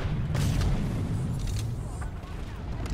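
Rockets fired at enemies during a video game battle at an outpost go off as repeated booming blasts and rumbling explosions, heavy low thuds in a dense cluster under a roaring background din.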